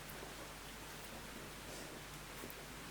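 Soft, steady rain hisses evenly through a quiet night, a faint and unbroken wash of drops with no other distinct sounds.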